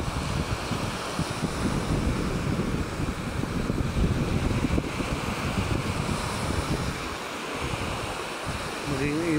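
Strong wind roars across the microphone while heavy ocean waves crash and churn continuously during Typhoon Dante in Mansalay Bay, a loud, turbulent wash of noise with no pause.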